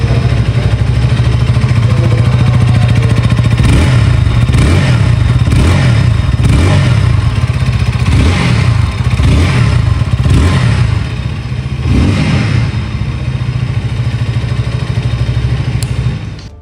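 A KTM 160cc motorcycle engine runs loud and close, a steady throbbing rumble with rhythmic pulses that eases slightly near the end.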